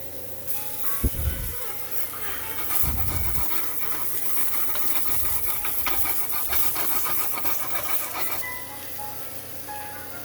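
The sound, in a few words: tomatoes sizzling on a grill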